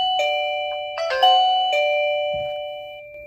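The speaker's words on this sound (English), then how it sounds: "if somebody came up to your doorbell with this installed, they click their button" An Annke smart video battery doorbell chimes its electronic tones twice, clear and close, with the last notes fading out.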